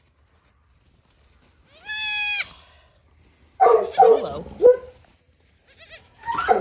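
A newborn goat kid in bitter cold lets out one short, wavering bleat near the microphone. Someone speaks in bursts afterward and the kid bleats briefly again at the end.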